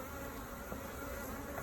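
Honey bees buzz steadily and densely throughout a hive inspection, a continuous close-up drone of many insects with no voices.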